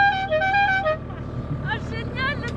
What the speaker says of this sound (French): Oh génial le klaxon.